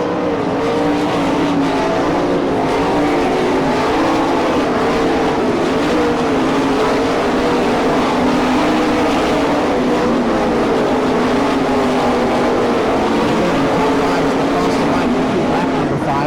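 Sprint race cars racing on a dirt track at Franklin, Pennsylvania, in an All Stars vs NCRA event: a continuous, loud, roaring engine drone that stays steady throughout under an announcer's running commentary.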